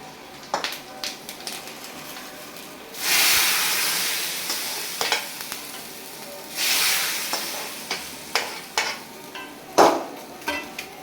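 Fried tempering tipped into a pot of goat intestine curry in a home kitchen, giving two bursts of loud sizzling a few seconds apart, with stirring and utensil clinks between them.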